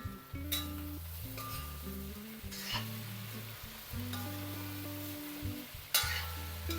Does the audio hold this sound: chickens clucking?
no